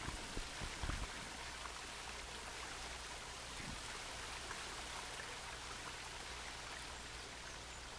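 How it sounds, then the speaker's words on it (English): Steady broadband rush of a waterfall in the Second Life virtual world, heard close up from the top of the falls, continuous and even with no talking. "we're right next to the waterfall once again"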